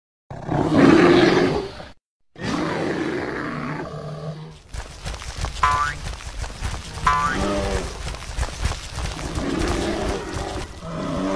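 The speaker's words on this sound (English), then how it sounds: "Bear." A roaring animal meant to be a bear, with loud sustained growling roars that come in bursts, broken by a short silence and followed by noisy grunting and rumbling.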